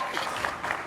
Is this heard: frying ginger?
no